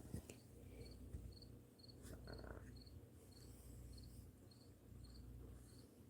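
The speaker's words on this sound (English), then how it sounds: "there's a cricket outside" Steady, evenly spaced high cricket chirps repeat over a quiet outdoor background, fairly faint and continuous throughout.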